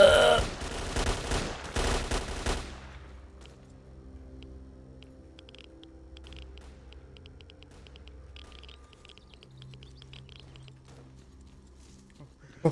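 Loud volleys of squad gunfire in a video game open the moment, several overlapping rifle bursts for about two and a half seconds, then dropping off to a quiet tonal game soundscape with faint ticks.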